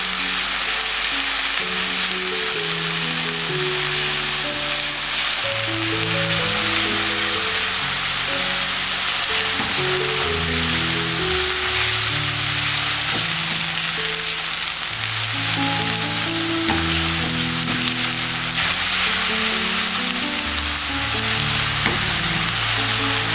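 Onions fry with ginger garlic paste in a pan for tandoori chicken do pyaza, giving a loud, dense, continuous sizzle and crackle with no voices.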